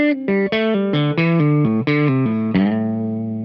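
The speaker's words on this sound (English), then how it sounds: "And these are just pulling off to open strings." A slow electric guitar lick on a distorted tone, with about eight clear notes stepping through pull-offs to open strings and ending on a sustained ringing note, loud and close with no talk.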